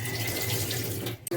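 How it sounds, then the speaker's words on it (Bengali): Small chuno fish being rinsed under a running kitchen tap for a Bengali bati chorchori, a steady close broadband rush of water into a sink that cuts out abruptly near the end. "এবার মাছটা ধুয়ে নিই।"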